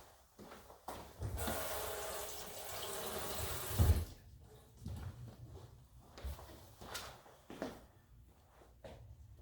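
Tap water runs for a few seconds as a kitchen knife is rinsed after chopping green onions, a steady broadband rush that stops, followed by scattered soft clicks and handling knocks nearby.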